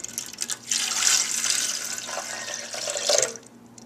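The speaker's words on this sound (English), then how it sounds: "To the eggs, I am also going to add 1 2/3 cup water." Water poured from a cup into a bowl of eggs for bread machine dough, a close, bright splashing stream lasting a few seconds with a brief pause and a final trickle.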